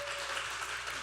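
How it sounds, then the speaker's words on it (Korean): At a church youth worship service, the congregation claps for the broadcast team in a short burst of steady, dense applause, fairly loud and unbroken throughout. "저희 수고한 방송팀에게 박수 한번 부탁드립니다"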